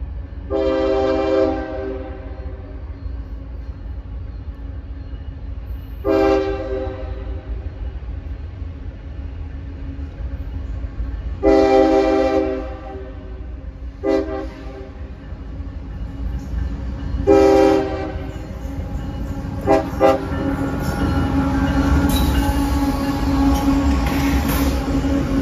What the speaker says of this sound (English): we catch the CSX northbound manifest on the former CNO main out of Columbus with CSX 8137, ex-Louisville and Nashville SD40-2 trailing third